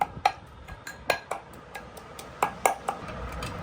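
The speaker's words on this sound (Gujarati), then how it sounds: "લસણને ખાંડી લેવાનું છે" Garlic being pounded for garlic chutney, heard as a series of sharp, close taps scattered irregularly over a few seconds with short pauses between strikes and no talking.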